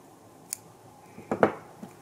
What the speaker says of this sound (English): Let me grab my scissors.